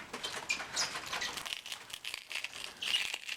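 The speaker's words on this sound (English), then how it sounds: "Getting them out of this little plastic bag I keep here." Soft plastic bag crinkling close by, a steady rustle with sharper crackles now and then, fairly quiet.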